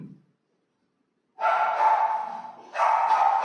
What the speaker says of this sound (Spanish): Pero esperemos que pasen los perritos.